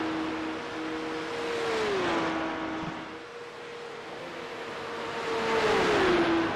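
Race cars in a sim racing league, one car slipstreaming behind another down a straight. The engine drone is steady and moderately loud, with its pitch sliding down on gear changes and then climbing again.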